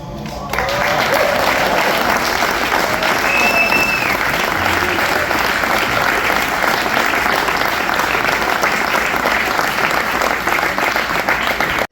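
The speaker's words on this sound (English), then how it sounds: "If we could just get one more round of applause for this guy who just did a tremendous job leading the team" Loud, sustained audience applause at a college water polo team banquet, many people clapping steadily for about eleven seconds with scattered crowd noise and a brief cheer, then cutting off abruptly.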